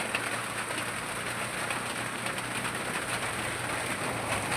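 Steady, heavy rain hisses continuously, a dense, even downpour close by with no pauses.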